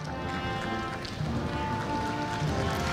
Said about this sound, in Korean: 신입생 여러분과 학부모님께서는 모두 일어나셔서 큰 박수로 환영하여 주시기 바랍니다.